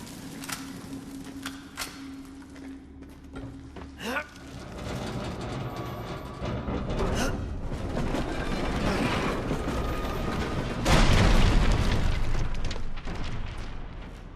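A remote bomb goes off in Resident Evil 7: Biohazard, a heavy explosive boom with a long rumbling roar, preceded by mechanical clicks and clatter of in-game actions.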